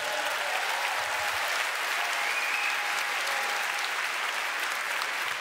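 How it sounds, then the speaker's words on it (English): A hall audience at a live debate breaks into sustained applause for the Toronto Police, a dense, even wash of clapping that holds steady throughout with no voices over it. "A big round of applause for the Toronto Police Services this evening."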